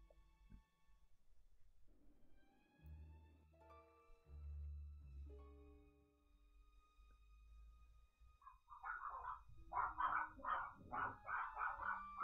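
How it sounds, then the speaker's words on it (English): Dogs bark in the background, with a run of repeated barks in the second half that sits behind sustained tonal sounds and a low hum. "Dogs barking in the background."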